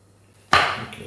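A knife chops onion on a cutting board in a home kitchen: one sharp, close cut strikes after a quiet start and rings out briefly, with no talking.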